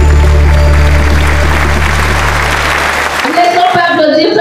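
An audience applauds during a Christian praise segment of a French-language television program. Broad clapping runs over a steady, low tonal hum that cuts off near the end, where the texture changes.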